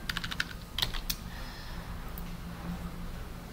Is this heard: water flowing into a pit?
no